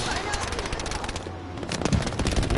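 Rapid, loud bursts of gunfire and blasts from a Battlefield 5 Grand Operations match, including mortar fire, crackle over the full length. Game voices talk underneath the shooting.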